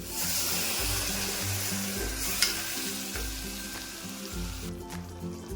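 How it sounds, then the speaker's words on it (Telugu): Steady sizzling of food frying in a pan with repeated stirring scrapes, continuous and fairly close, no voices. "బాగా వేయించుకోవాలి"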